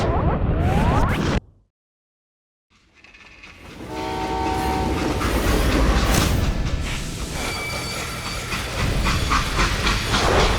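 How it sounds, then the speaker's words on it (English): A freight train in the Western shooter game Call of Juarez: Gunslinger roars loudly after a brief silence, with a heavy rumble, hissing steam and sustained horn-like tones over the rolling clatter. "How'd they stop this train in the first place?"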